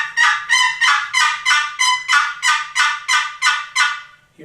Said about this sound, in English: So that's how you make a yelp on a box call.